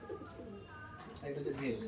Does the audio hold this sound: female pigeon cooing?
yes